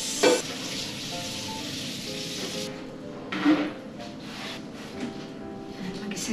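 Chopped tomatoes sizzle in a hot pan while a utensil stirs and scrapes through them, with a few sharper knocks and scrapes above the constant frying hiss.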